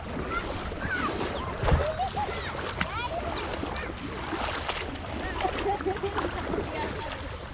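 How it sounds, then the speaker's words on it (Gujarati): Strong floodwater from fields rushing after heavy monsoon rain, a steady wash of flowing water with splashes throughout, close and loud, with voices talking over it. "પાણી ચાલી રહ્યું છે બહુ"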